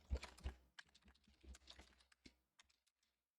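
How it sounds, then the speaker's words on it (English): Rapid clicks of typing on a computer keyboard, a dense burst of keystrokes up front that thins into scattered, sparser taps toward the end, close and clear with no talk. "Get my typing done"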